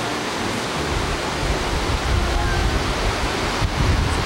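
Caribbean surf washes along a Cancun beach in 1989, a loud broadband rush of waves and sea with wind buffeting the microphone, steady throughout with swells toward the end.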